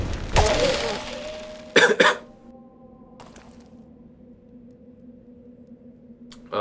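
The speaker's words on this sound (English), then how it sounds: "had to edit that cough there" One sharp, close cough, followed by a brief clatter and then a quiet, low hum with faint tones lingering.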